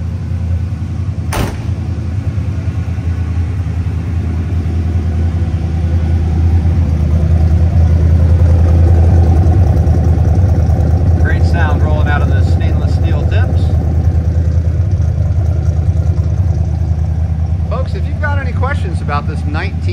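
A 1974 Oldsmobile Cutlass Supreme idles with a steady, deep, rumbling burble heard from outside the car, loud and continuous, with a brief click early on and a few faint chirps later.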